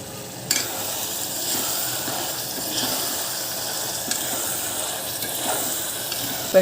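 Ginger garlic paste frying in oil for mutton curry, a steady close sizzle with occasional spoon scrapes and clinks while stirring, continuous and alone without speech.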